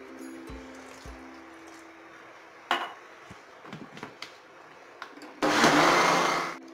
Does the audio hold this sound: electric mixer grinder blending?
yes